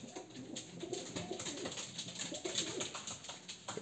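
Pigeons coo softly and repeatedly, low throaty calls overlapping in an irregular rhythm against a quiet background.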